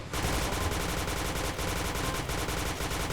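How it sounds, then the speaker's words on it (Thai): Rapid, continuous automatic-style bursts from a PB toy gun fired at a wall, dense and loud with brief dips, no talking. "นี่ผมยิงกระแพงให้ดู"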